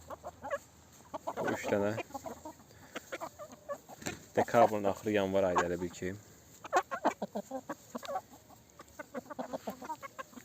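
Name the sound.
roosters and chickens clucking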